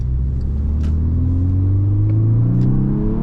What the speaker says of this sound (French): on va se faire 2-3 petites accélérations sympas avec cette voiture